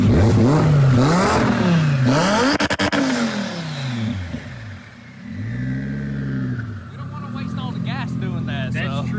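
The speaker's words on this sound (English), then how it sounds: "Go ahead and give it a little rev" A twin-turbo 2020 Audi R8 engine revs hard several times in quick bursts, loud and close, then settles into a deep idle with a few more short blips.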